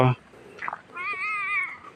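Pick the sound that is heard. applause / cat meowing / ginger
cat meowing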